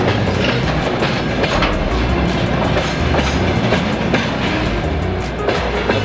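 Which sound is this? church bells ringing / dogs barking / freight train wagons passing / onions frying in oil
freight train wagons passing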